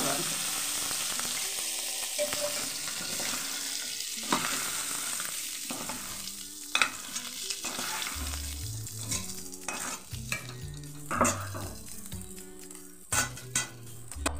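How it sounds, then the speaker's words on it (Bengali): Prawns frying in a wok give off a continuous hissing sizzle, with frequent clinks and scrapes of a utensil stirring and knocking against the pan; close and steady throughout, with no voices. "এই যে এইভাবে চিংড়ি মাছগুলো ভেজে নিয়েছি"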